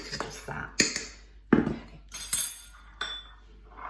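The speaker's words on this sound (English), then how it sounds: "So I'm just going to whisk the dry ingredients through there." Dry ingredients for gluten-free sweet pastry with ground almonds are whisked in a bowl, giving irregular close clinks and scrapes of the whisk against the bowl.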